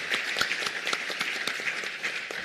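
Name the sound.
audience applause for the panelists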